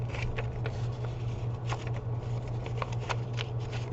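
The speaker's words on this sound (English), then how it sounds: "I'm going to just fold along all of these edges that I have made with my black marker." Card-stock paper cut-out being folded along marker-drawn edges for a 3D city building model, giving a run of soft crinkles and sharp creasing snaps, close and steady over a low constant hum.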